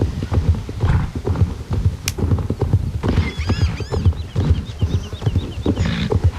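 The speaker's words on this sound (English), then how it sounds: "The horses leaping over tangled roots." Horses gallop through the woods in the video game Star Stable, quick rhythmic hoofbeats pounding close and loud throughout, with several whinnies and a music-like tone over the running.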